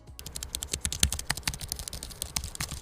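Rapid, continuous typing on a custom Drop mechanical keyboard, with dense clicky keystrokes that rattle close to the microphone and no voices.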